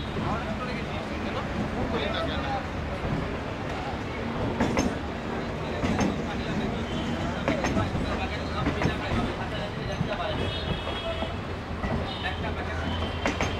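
A train at Sealdah railway station in Kolkata: a steady, dense platform din of rumbling carriages and machinery mixed with crowd babble and voices throughout, with no distinct horn or single pass-by standing out.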